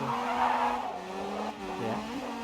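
A rallycross race car in a video game skids through a handbrake turn at Hell, tires squealing over a continuous engine drone that wavers in pitch, loud and close, with no voices.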